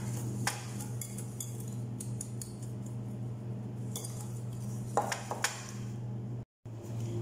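Soft, sparse metallic clinks of a spoon against a bowl while the bosbosa sweet mixture with powdered milk is mixed, faint over a steady background hum.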